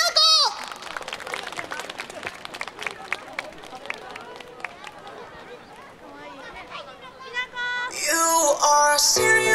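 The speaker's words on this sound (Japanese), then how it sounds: "それでは皆さん拍手でお迎えください。" An audience at a countdown event for a bullet-train station opening claps to welcome a young children's street-dance duo, with scattered claps amid crowd chatter and cheering before music starts loudly at the end.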